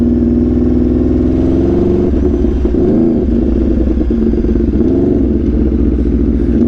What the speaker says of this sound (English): Everyone say that Rsv4 exhaust sounds like a Mustang though